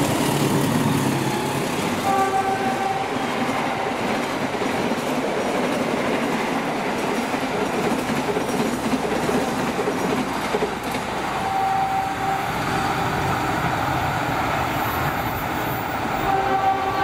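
A passenger train rolls past on rails in Jakarta, a loud sustained roar and rumble with wheel clatter running through the whole passage, no voices.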